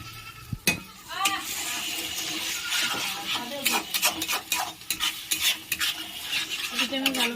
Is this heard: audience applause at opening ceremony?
no